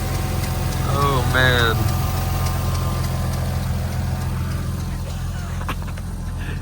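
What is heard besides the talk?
Toyota Supra Turbo engine running after revival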